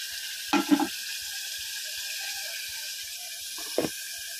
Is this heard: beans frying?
yes